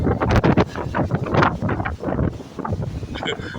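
A strong cyclone windstorm blows outdoors, its gusts buffeting the microphone in a continuous, loud, uneven roar, with voices partly heard beneath.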